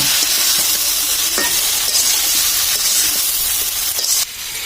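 Dal fritters and cauliflower dropped into a pan of hot oil, a loud, close, continuous sizzle and hiss with faint stirring scrapes, ending in a brief drop in intensity; no voices.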